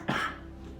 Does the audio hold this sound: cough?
yes